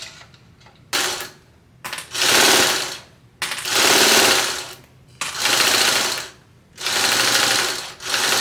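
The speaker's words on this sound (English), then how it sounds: "now we're going to go and get that top stitched at 1/8 of an inch seam allowance" A sewing machine top stitches a bag lining at a narrow seam allowance in five loud bursts of rapid whirring, separated by short pauses, heard close and without talk.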